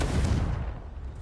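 A Confringo blasting spell goes off in the Hogwarts Legacy video game, a single close, heavy booming burst that rumbles low and fades away over about a second, with no voices.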